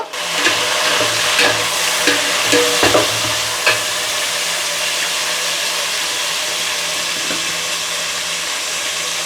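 Green chillies and tomatoes hit softened onions frying for a korameenu fish curry; a loud hiss and sizzle with clattering stirs early on settles into a steady frying noise.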